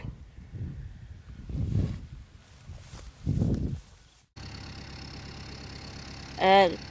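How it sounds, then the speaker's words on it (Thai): A farm tractor tills soil to clear weeds in a newly planted durian orchard. Its engine drones steadily and fairly close through the second half, after earlier voices, and a short high chirp comes near the end. "สำหรับ ภาพที่เห็นด้านหลังนี่คือ รถไถนานะคะ ที่ได้มาทำการช่วยไถ พรวนดิน เพื่อกำจัด"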